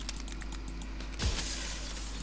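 Everything shatters in the video game Slay the Princess: a steady hiss and low hum give way to one sudden bright crash near the middle, followed by a fading noisy tail, with no talking.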